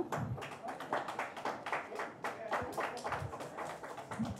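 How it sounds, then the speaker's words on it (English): Scattered clapping from a seated crowd greeting the author Bondia at her book launch, a loose patter of hands sustained under faint background chatter. "Round of applause for Bondia."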